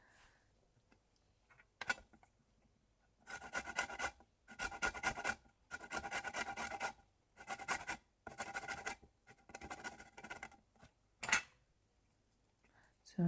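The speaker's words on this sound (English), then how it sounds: "I don't know if there's a better way of grating lemons and limes, but I did it with the fine grater." Lemons and limes are rubbed over a fine grater in quiet bursts of scratchy rasping strokes, several separate passes with pauses between them.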